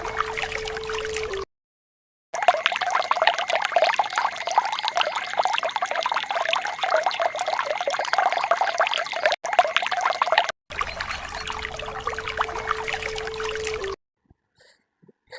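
Water is poured onto the burning embers of a chicken-roasting fire at a forest picnic, giving a sustained splashing hiss that cuts in and out in several bursts, with a faint steady tone in places.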